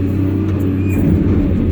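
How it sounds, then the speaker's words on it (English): A loaded dump truck drives out past a CAT 324 long-reach excavator on a worksite, its steady low diesel rumble close and loud throughout with no voices over it. "Loaded truck coming out."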